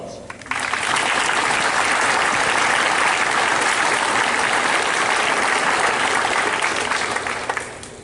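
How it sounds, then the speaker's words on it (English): Officer Candidate School graduates at a naval graduation ceremony give each other a long round of applause, a loud, dense wash of clapping that starts abruptly and holds steady for about eight seconds. "Please give one another a well-deserved round of applause."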